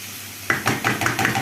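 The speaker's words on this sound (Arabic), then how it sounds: "شوحيها بس شويه كده عشان نحط لها التوابل برده بتاعتها" Onions and chicken being sautéed in a pan for a chicken pasta casserole: after a short quiet start, a spoon scrapes and clatters against the pan in a quick, steady rhythm, close and alone.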